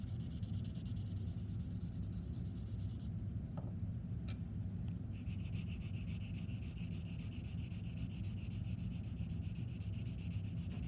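A graphite pencil rubs steadily across drawing paper in continuous close shading strokes, a soft, even scratching that holds for several seconds with a brief pause midway.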